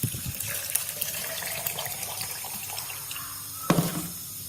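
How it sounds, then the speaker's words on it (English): Hot water is poured into a glass, a brief splashing and gurgling of liquid with small clinks, fairly close and fading toward a sharper knock near the end. "I put hot water in glass."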